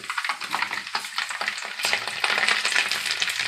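Garlic frying in oil for fish pickle, a bright crackling sizzle with bursts of spattering and stirring, close and loud, with no voices.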